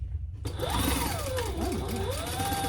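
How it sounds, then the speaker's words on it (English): Sewing machine stitching a seam on a crossbody sling bag, starting after a brief pause and running in a fast, even mechanical whir with rising and falling motor pitch, close and clear, no talking. "let's sew that with the seam allowance in the pattern"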